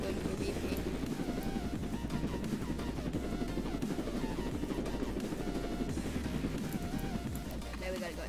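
A drone flies in the Roblox game, its steady whirring rotor drone running loud and continuous throughout, with busy game noise and voices layered over it.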